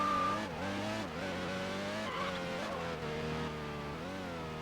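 Race car in a downtown autocross race from a video game, engine note rising and falling with gear changes while tires squeal and skid through corners, fairly quiet and continuous.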